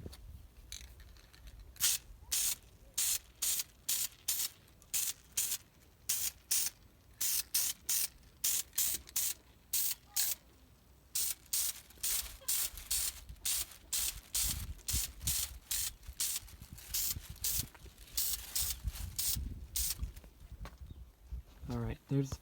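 Short, sharp hisses from a spray can, close and loud, as paint goes onto taped-off brake calipers; dozens of quick bursts follow in an uneven rhythm with brief gaps between them.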